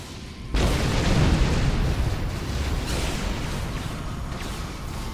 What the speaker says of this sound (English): detonating charges